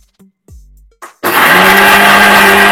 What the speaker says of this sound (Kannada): ಹಂಗೆ ಸ್ವಲ್ಪ ಗ್ರೈಂಡ್ ಮಾಡಕ್ ಟ್ರೈ ಮಾಡ್ತೀನಿ